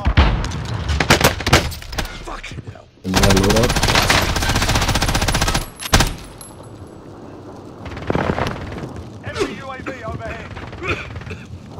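Enemy machine gun fire in a light-machine-gun shooter game crackles in dense, loud bursts, building into a sustained roar of rapid shots before cutting off. Excited players talk over the gunfire.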